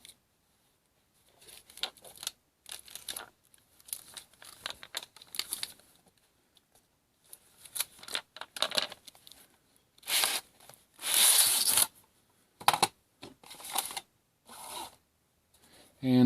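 Cellophane shrink-wrap crinkling and tearing as a digital caliper package is unwrapped, with bursts of rustling and ripping that grow louder toward the end, close and fairly faint.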